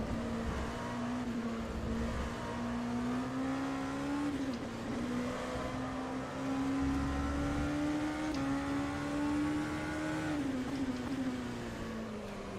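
An LMP2 race car engine in rFactor 2 at Spa-Francorchamps, a steady engine drone whose pitch rises and falls with throttle changes through the whole stretch, loud and alone with no talk.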